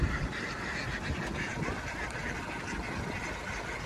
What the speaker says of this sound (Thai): แล้วก็เป็ดสวยมากนะครับ